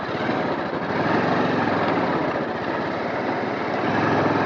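A motorcycle engine drones steadily while riding an off-road trail in Sindhupalchowk, a continuous loud hum with wind noise and no talking.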